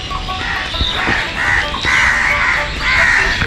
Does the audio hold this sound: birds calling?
yes